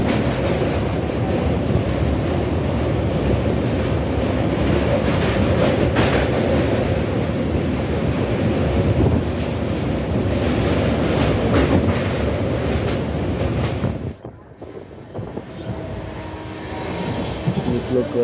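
Passenger train running from Bhubaneswar to Bangalore, a loud continuous rumble with rattling carriages heard from inside, easing briefly near the end before picking up again, with voices faintly mixed in.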